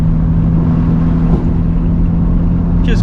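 Mitsubishi Evo with a muffler delete cruising on the street in quiet mode: a steady, loud low exhaust drone and hum heard from inside the car, with no sharp revs.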